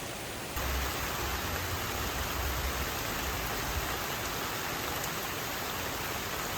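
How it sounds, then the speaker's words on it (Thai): Rain falling steadily at a campsite near Sapan in Nan province, Thailand, a dense, even hiss of drops that holds at a constant level throughout, with no voices. "ฝนตกเลยนะครับ เดี๋ยวตก เดี๋ยวแดดนะฮะ"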